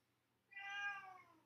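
A pet cat lets out a single drawn-out meow, clear and tonal, rising in from near silence and tailing off after about a second in a quiet indoor room.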